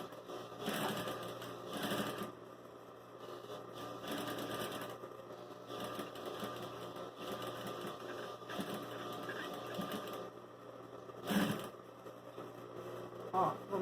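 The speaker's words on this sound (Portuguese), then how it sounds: "Baixa de novo e segue costurando." A sewing machine runs quietly, stitching denim in a steady mechanical whir with occasional clicks and handling noises, under soft talk.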